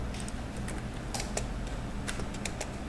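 Computer keyboard typing comes in quick irregular bursts of clicky keystrokes, close and fairly faint over a steady background hum, with no speech.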